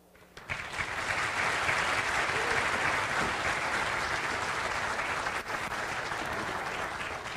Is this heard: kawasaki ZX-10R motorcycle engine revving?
no